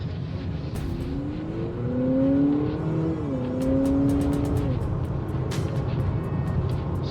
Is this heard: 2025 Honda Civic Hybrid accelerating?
yes